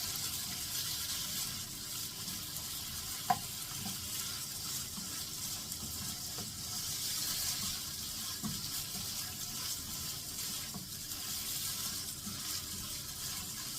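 Marinated pork is stir-fried in a hot pan, giving a steady, soft sizzling hiss throughout, with a few faint clinks of a utensil against the pan and no talking.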